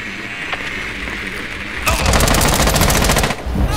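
Gunfire in Rainbow Six Siege comes as a loud, rapid automatic burst that starts abruptly partway through and runs for about a second and a half. A quieter stretch with faint game sounds comes before it, and the burst ends with a brief trailing shot.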